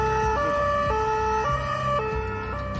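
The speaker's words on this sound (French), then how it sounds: "se rendent sur place, toutes sirènes hurlantes" A police car siren wails at night in Marseille, loud and close, a steady two-tone alternation cycling about every half second and sustained throughout without voices.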